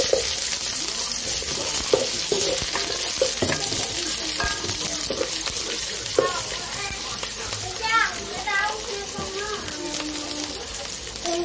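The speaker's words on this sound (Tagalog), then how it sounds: "Tapos, lagyan na natin yung bawang. At sibuyas." Garlic and onion sauté in a frying pan, a steady broad sizzle with stirring clatter throughout, while children chatter and call out in the background.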